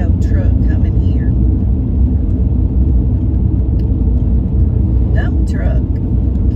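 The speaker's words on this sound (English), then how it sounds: "It's this big old truck coming here." A big dump truck rumbles past on an East Texas country backroad, heard from inside a moving vehicle as a loud, steady low roar under a person talking.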